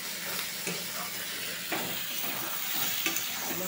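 Fish roe curry with potatoes sizzling in oil in a wok as the water cooks off, a steady close hiss broken by occasional stirring scrapes, fairly quiet, with no talking.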